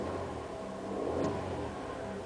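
A 2007 GMC Acadia's 3.6 liter V6 revs briefly at idle, a steady mid-pitched engine hum swelling slightly and settling over about two seconds, heard close with no talking.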